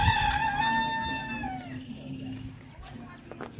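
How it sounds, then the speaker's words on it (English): A chicken calls out on a rural homestead in Burundi, a drawn-out, rising-and-falling cry near the start that fades into low background noise and a few faint distant sounds. "Chicken."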